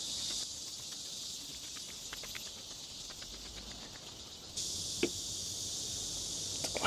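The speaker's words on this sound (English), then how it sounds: "It's still super loud here with cicadas." A steady high-pitched cicada drone fills the background, swelling louder partway through, with faint footsteps and small knocks nearby, on stairs leading to a pagoda in Chungmuro, Seoul, South Korea.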